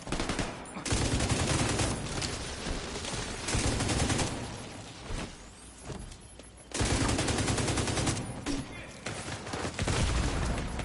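Automatic weapon fire in The Division 2 erupts in loud, dense bursts of rapid shots and booms, pausing briefly between volleys during a close firefight.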